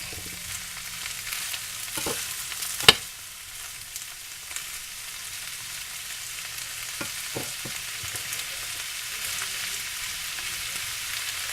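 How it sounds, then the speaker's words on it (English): Eggs frying in a pan hiss with a steady sizzle throughout, broken by a handful of brief utensil clinks, with no one speaking. "that's all I have to do now is fry up my eggs"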